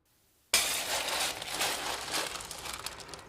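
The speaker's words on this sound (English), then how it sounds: "Charging the furnace is what we call filling the furnace up with glass." Washed glass cullet is loaded into a glass furnace, pouring in with a sudden loud crash and then a sustained clattering, tinkling rush of broken glass with no talking.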